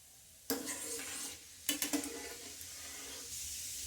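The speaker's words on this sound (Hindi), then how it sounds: "अब इनमें हम डाल देते हैं चने की दलिया है, इनको भी हम अच्छे से भून लेते हैं।" Chana dal roasting in a pan for homemade nylon poha namkeen: a close, quiet sizzle punctuated by scraping stirs of a spatula against the pan, one firm sweep and then a short cluster of rattling strokes.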